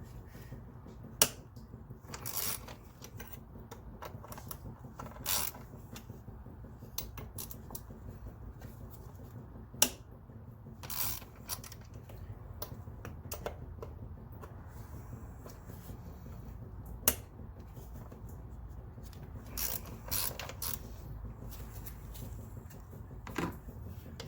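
A ratchet with an 8mm socket removes bolts on a Ford F-150 while fixing a coolant leak, making faint irregular clicks and taps over a low background rumble.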